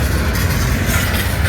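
A loud, dense rumble of a train in a Universal Studios studio tour attraction fills the moment, a low rolling roar that sounds close and steady.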